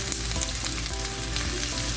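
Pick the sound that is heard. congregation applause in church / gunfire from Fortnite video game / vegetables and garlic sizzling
vegetables and garlic sizzling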